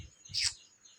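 A single bird gives a brief, bright chirp in the early morning at Guhagar beach, near and moderately loud against a quiet background with faint low rumble.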